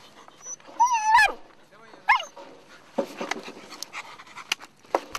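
Dogs at play in a training yard for landmine-detection work, with panting, whimpers and a couple of sharp yelps or barks in the first two seconds, then scattered thumps and scuffling; a voice is briefly audible.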